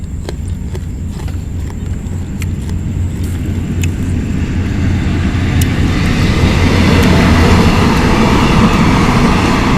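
A train passes in the rain, its rumbling swelling and growing louder over a steady hiss of rainfall.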